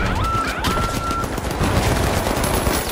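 A deployable turret in the shooter game The Finals fires without pause, a dense mechanical stream of shots that stays loud and close throughout, with a short electronic tone near the start.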